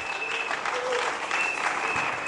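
A church congregation applauds, a dense, steady patter of many hands clapping together at close range, filling the whole short stretch without a break.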